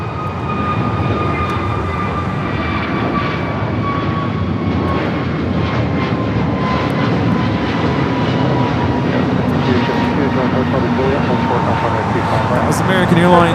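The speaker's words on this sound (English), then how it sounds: "That was American Airlines 1590 taking off to Charlotte on the A321neo." An American Airlines Airbus A321neo jet roars down the runway at LAX on takeoff, a loud, continuous engine rumble and whine that swells slightly toward the end, with people talking underneath.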